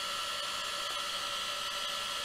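A small, quiet heat tool for art use blows steadily over masking fluid on watercolor paper, a constant airy whir close by with no talking.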